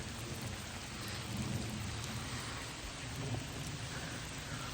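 Steady rain falling on a chilly day outdoors on a trail, with a low rumble of thunder underneath, continuous and even throughout without any voices.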